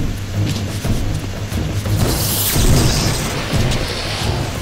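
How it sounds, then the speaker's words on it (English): Lightning spell in Legacy of Kain: Defiance, crackling electrical zaps and booming bursts, loud and close, swelling to a bright crackle midway before easing. "Let's see what the lightning spell is."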